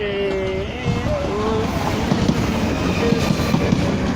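A passenger train passes through Clapham Junction in a steady loud rumble with broadband rail noise throughout, overlaid by a tonal whine and a brief higher tone, while a voice speaks intermittently.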